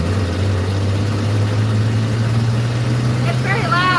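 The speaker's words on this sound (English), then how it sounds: "I've got a wicked exhaust leak coming from my exhaust manifold" A 1976 Ford F-250 with a 300 six and NP435 four-speed runs with a leaking exhaust manifold, giving a loud, steady, low rumbling drone close by, with a brief voice near the end.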